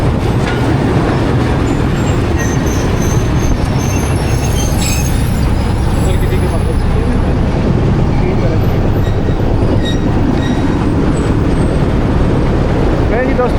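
The Millat Express rolls into Chenab Nagar station, a loud, steady rumble of rail wheels with faint squeals and clatter, a horn-like tone briefly rising mid-way, as a voice speaks over the noise.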